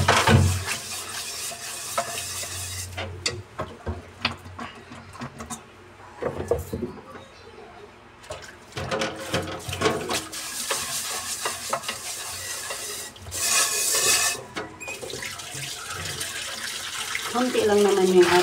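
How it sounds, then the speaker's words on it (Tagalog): Cooking pots are washed in a sink: running tap water, scrubbing and metal clatter come in uneven bursts, with a few quieter pauses and some voices. "dito tayo ay magbubugas na ng ating mga kaldero"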